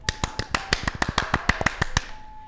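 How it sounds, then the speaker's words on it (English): A single person gives a short, steady burst of about a dozen crisp, close claps in an even rhythm for a tabletop role-playing podcast, with no talk during the clapping. "So a tiny round of applause for 4 seconds only for Amir and Matthew"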